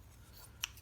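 A quick snip of scissors cuts a piece of cheesecloth as one short, crisp, close click against a quiet background.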